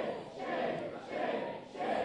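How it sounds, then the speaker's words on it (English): Students, faculty and alumni at a university protest chant in unison, a crowd's rhythmic repeated shout rising and falling in steady waves, somewhat distant and diffuse. "Students, faculty, and alumni are chanting shame after the Board of Trustees moves forward with the vote for General Robert Caslen to become the next"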